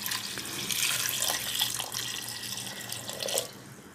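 About a cup of water splashes into a pot of vegetables on an infrared electric cooker, a short, hissing, close pour that trails off near the end, with no voices.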